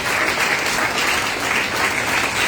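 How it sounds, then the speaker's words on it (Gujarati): Hearty crowd clapping at a yoga and garba inauguration event in Jamnagar, Gujarat, a thick continuous roar of hands filling the space at steady loudness from start to finish. "સૌથી પહેલા તો એક જોરદાર દિલથી તાળી પાડી દો"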